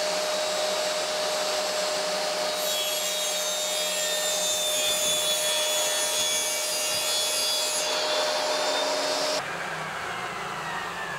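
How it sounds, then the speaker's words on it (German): A power saw rips 85 mm wooden strips for drawer dividers, giving a loud, continuous whining cut that holds steady for several seconds and then drops to the lower hum of the idling blade. "Und jetzt kann ich eben meine 85er Streifen schneiden."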